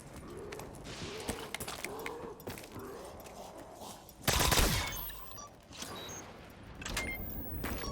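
Mark II burst-fire gunfire in a zombies video game, a loud short burst of rapid shots midway through, with game ambience and faint talk around it.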